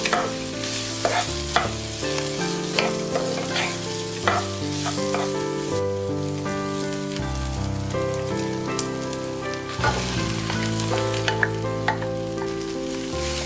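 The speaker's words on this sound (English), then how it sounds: "As the onion softens, add the cold, cooked rice to the pan." Cold cooked rice stir-fried with softened onion in a pan for kimchi fried rice, a steady close sizzle with scraping spatula stirs throughout, heard under background music with no talking.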